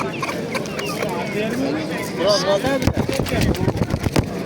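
Chickens clucking at a busy poultry market, with scattered clucks and rooster-like calls mixed under people talking nearby and clattering crowd noise.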